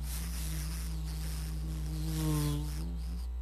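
A person's voice imitating a buzzing housefly, a loud, steady close-up drone that wavers and bends in pitch for a few seconds before breaking off.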